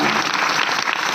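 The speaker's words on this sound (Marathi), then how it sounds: "यांच्यासाठी टाळ्या वाजवा।" A crowd at a devotional kirtan gathering applauds with steady, dense clapping that fills the whole moment, loud and continuous without a break.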